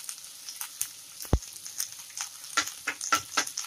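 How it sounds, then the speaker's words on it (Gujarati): Turmeric sizzles and fries in hot oil for a South Indian masala dosa filling, a soft close crackle broken by scattered stirring scrapes and pops. "હળદરને થોડી શેકી લઈશું તેલમાં."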